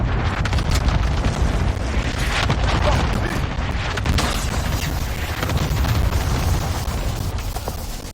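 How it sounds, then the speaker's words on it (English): Cluster strike explosions in Call of Duty: Modern Warfare rumble as a dense, continuous barrage of heavy booms, loud and close throughout with no pauses. "Enemy cluster strike incoming."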